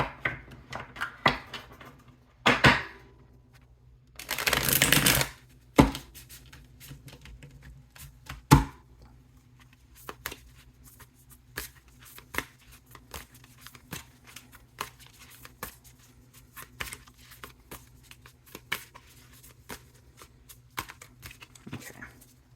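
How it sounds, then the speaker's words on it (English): Tarot cards are shuffled in quick riffling bursts, with sharp taps and soft card slaps scattered through otherwise quiet moments. "I feel like one more good shuffle."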